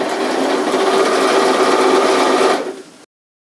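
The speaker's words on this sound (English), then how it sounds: "we're just going to top stitch about 1/4 of an inch from the seam line" A sewing machine runs steadily, topstitching a seam on a pair of work pants, a continuous close mechanical whir that cuts off abruptly near the end.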